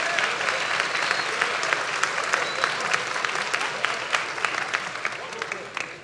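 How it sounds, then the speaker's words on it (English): Sustained audience applause at a fall university commencement ceremony at Alabama A&M University, dense steady clapping from a large crowd filling the hall, with scattered sharper claps standing out, fading slightly at the end. "Would you please give our commencement speaker another warm round of applause for that excellent message?"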